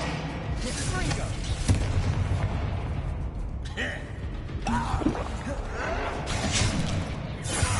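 Fiery Confringo spell blasts and booming impacts from combat in Hogwarts Legacy, loud and repeated over several seconds, mixed with game voices and effects.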